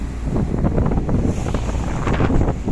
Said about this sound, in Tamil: எங்கள் ஒரு போட்டு மட்டும் தான் ஓடிக்கிருக்கு